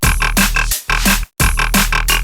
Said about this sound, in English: how to make like a Belgium Grotty type bass